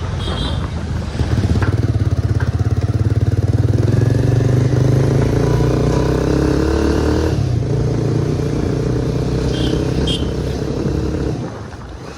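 Loud, steady scooter engine drone while riding, with a slight rise in revs and the rumble fading near the end.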